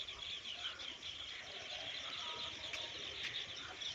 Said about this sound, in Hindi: तुसीं देखे नहीं छोटे छोटे स्पैरल्स।